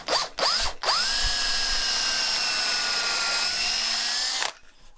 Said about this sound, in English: We're going to drill in a bit of the way with this